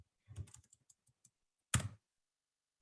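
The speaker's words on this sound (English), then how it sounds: "you could go ahead and type within your document and then resave." Keys tapped on a computer keyboard while typing into a document: a quick, irregular run of soft clicks, then a louder, longer clatter and one final click, close and alone.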